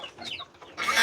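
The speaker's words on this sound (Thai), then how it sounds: "ไก่น้อย โอ้มีแต่โตงามๆเนาะ" Chickens kept for sale cluck and squawk in short, close bursts, followed by a louder rush of noise near the end.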